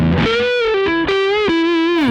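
A PRS SE Hollowbody McCarty electric guitar is played on its neck pickup with the tone knob rolled off, giving a warm, dirty single-note line with sustained bends and vibrato, loud and up close.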